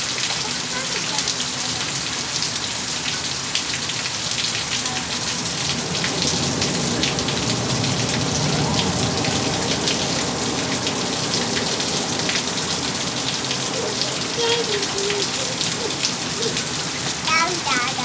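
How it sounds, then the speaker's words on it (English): Steady rain pattering down onto muddy puddles outdoors, a dense hiss of drops lasting throughout at close range, with a child and adult faintly talking underneath. "Those are some muddy puddles, Sophia."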